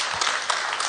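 Applause from an audience at an awards gala, a dense and even wash of clapping that holds steady without a break, with some faint voices mixed in.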